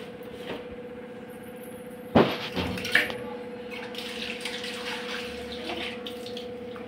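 Tamarind being washed under running tap water, a steady stream with a sharp splash and clatter partway through and a second smaller splash after, continuing as a soft flow.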